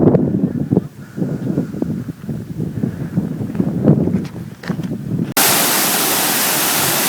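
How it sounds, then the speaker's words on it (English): Katahdin Stream Falls on the Appalachian Trail in Maine's wilderness, rendered as a steady broadband rush of falling water that swells loud and close in the final seconds after quieter footsteps and wind. "There's the Katahdin stream falls."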